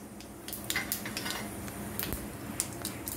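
Cumin seeds frying in hot oil in a pan, a soft crackling sizzle under scattered metallic clinks and scraping of a spoon stirring the pan, close and fairly quiet.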